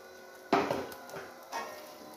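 Onion and ginger stirred in a pan, with two short scraping, sizzling bursts of utensil against metal, fairly quiet and close.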